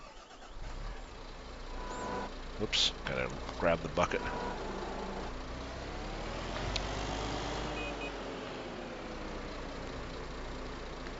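A small tractor in Farming Simulator runs with a low, steady engine drone, a few clanks and a brief beep, while someone talks over it.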